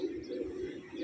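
A black female pigeon coos in a soft, low, throaty murmur, close by and alone for about a second.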